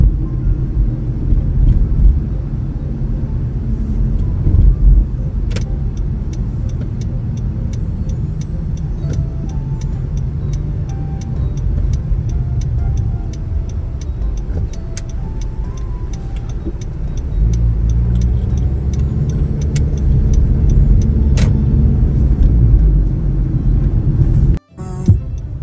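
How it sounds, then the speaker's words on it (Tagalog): Busy traffic near a Costco in Canada, with many cars passing in a steady, loud low rumble, heard from inside a moving vehicle, and a brief sharp dropout near the end. "Ang busy ang daming sasakyan."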